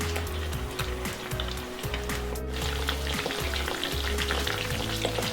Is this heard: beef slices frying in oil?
yes